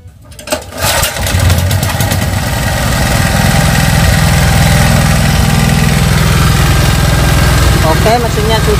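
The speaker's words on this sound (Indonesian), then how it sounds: "Oke, langsung saya hidupkan mesinnya." A generator set (genset) engine, one being serviced for giving no electrical output, cranks and catches, then settles into a loud, steady idle with a constant mechanical drone that runs to the end.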